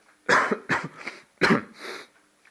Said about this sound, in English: that's just a genuine cough